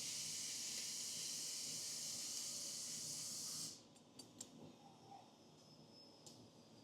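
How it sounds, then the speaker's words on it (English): Penetrating oil sprayed onto Honda ATV axle parts, a loud continuous aerosol hiss lasting a few seconds and then cutting off, followed by a few faint clicks and taps. "You always want to use some sort of penetrating oil"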